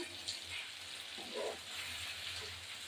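Chicken liver and gizzard masala sizzles steadily in a pan while being stirred, a quiet continuous frying hiss with faint scraping, alone without talk.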